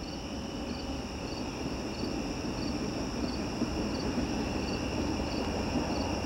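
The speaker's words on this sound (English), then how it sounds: "Listen to the crickets." Steady, rhythmic cricket chirping pulses on through the clip, fairly close and continuous, with no voices.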